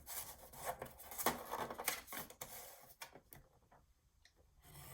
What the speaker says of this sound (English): I'm gonna just go ahead and score it right here, here, and here to make that pocket at 1/4 inch